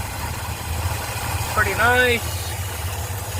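A Ford Fairlane engine fitted with a new Holley carburetor and manual choke idles steadily with a low, even rumble throughout, while someone speaks briefly over it.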